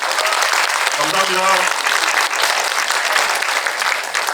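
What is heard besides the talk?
audience applause for the director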